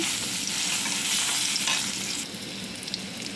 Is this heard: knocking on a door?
no